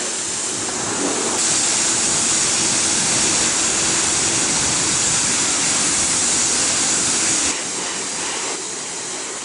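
A car wash pressure sprayer blasts foam onto a car, a loud steady hiss and spray that runs almost unbroken, swelling stronger in the middle stretch before easing slightly near the end.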